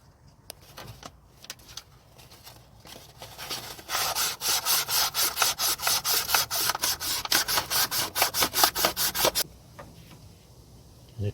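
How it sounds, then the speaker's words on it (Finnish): Rust being rubbed smooth on the axle end of a Fiat Ducato 2.5 diesel van, heard as a close, steady run of rhythmic back-and-forth rasping strokes, lighter scrapes before and after. "Ja vähän hinkkaan sitä tasaisemmaksi sitä ruostetta."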